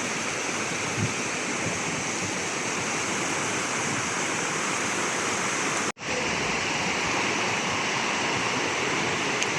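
Water flowing beneath a bridge in Villafranca, Italy, a steady broadband rushing wash heard alone at moderate level, with one brief dropout midway.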